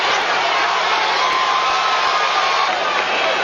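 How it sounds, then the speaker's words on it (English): Boxing arena crowd at a heavyweight bout cheering and roaring steadily, a dense wash of massed voices and whoops that fills the whole stretch at a loud, even level. "The crowd's encouraging him."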